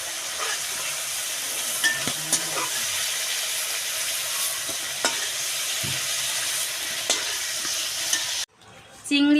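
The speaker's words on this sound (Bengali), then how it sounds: "চিংড়ি মাছ এখন আমার ভাজা হয়ে গিয়েছে, হালকা করে ভেজে নিয়েছি" Prawns fry in hot oil in a pan for prawn pulao, a steady close sizzle with occasional soft stirring taps and scrapes, then cut off abruptly near the end.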